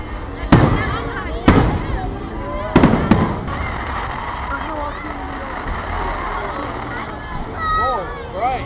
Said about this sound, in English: These fireworks sure do seem frozen.